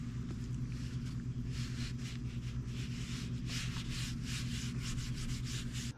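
A ceramic wipe rubs across the plastic panels of a YOZMA IN10 bike in steady, close back-and-forth strokes, layered over a constant low hum.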